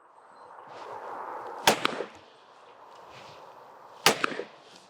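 Two loud, sharp shotgun blasts from a side-by-side shotgun, front trigger then back trigger, spaced about two and a half seconds apart at a clay shoot, each followed by a brief echo over steady background noise.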